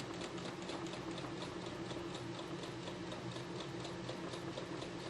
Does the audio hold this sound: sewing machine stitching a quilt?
yes